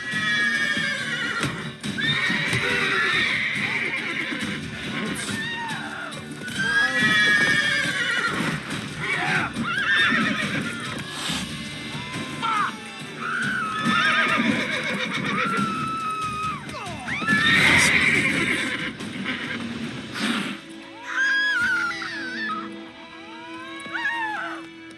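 Roach, the horse in The Witcher 3, neighs and whinnies repeatedly over a run of hoofbeats, loud and close, with game voices talking over parts of it before things quiet near the end.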